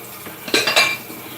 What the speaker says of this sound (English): I got tons of dishes here.